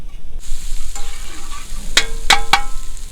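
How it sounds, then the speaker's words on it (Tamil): Chopped onions sauté and sizzle steadily in a hot pan for Tamil-style tawa crab masala, close and loud, with a few sharp scraping stirs of a metal spatula against the pan. "இந்த வெங்காயம் நல்லா வதங்கணும்"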